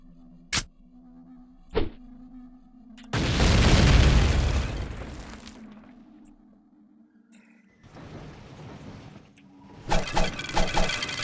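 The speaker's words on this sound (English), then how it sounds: "Probably with a remote bomb." Remote bomb detonating in the video game Blood II, a loud booming blast with a long rumbling tail, preceded by two sharp clicks and followed by further crackling bursts.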